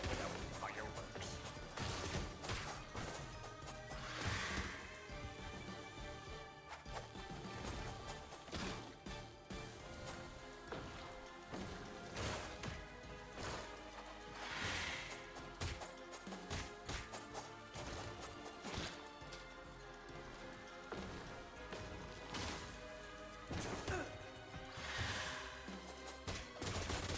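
Fireworks go off in the video game Marvel Cosmic Invasion: dense, crackling bursts and bangs repeat throughout amid busy game sound, fairly quiet overall.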